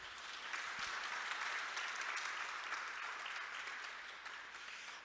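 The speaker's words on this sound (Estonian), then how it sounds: "Teeme aplausi." Steady audience applause at a seed festival talk on cover crops in home gardens, even and moderately distant, filling the whole stretch without a break and with no talk over it.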